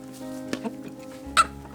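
Chickens cluck in a few short, close calls, with one sharper, louder squawk near the end, over a low steady background hum and with no talking.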